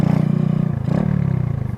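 Motorcycle engine revving up close, a loud, rough, pulsing low rumble with a rise in pitch midway, throttled briefly before settling back.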